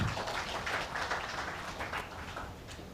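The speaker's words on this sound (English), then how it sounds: "Let us give a round of applause, please." An audience at the 2024 PIEA Africa Lubricants and Coolants Summit gives a round of applause, heard as faint, distant, steady clapping that lasts about three seconds and tapers slightly at the end.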